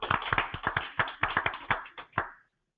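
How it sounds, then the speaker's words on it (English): Children clap their hands in an uneven burst of about a dozen sharp, close claps over roughly two seconds, then fall silent. "clap your hands"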